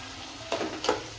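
Ground masala for a brinjal curry hits hot oil and fries with a close, bright sizzle, a stirring scrape surging midway through, with no talking.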